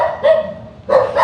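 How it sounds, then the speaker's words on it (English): Several dogs bark in two loud bursts near a parked car on a scenic country road, with a brief lull between them and no talk. "Now I have dogs that won't shut up."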